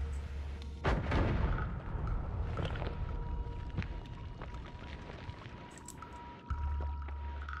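Bombs explode in the video game Noita: a heavy blast early on, then crumbling and rumbling debris, and a second deep boom near the end, loud and close.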